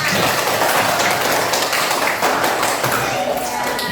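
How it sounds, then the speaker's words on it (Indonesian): Students in a science classroom clapping together in a brisk, busy burst of applause, loud and close, with voices talking over it throughout. "Ayo tepuk tangan dulu untuk kita semua."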